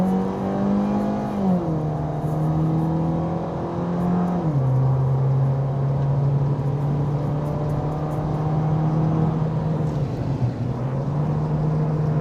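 A 2019 Ford Fiesta ST-Line in sport mode accelerates hard, its engine note climbing through steady rising revs, dropping at two gear changes and then pulling on, loud and close from inside the cabin with no talk.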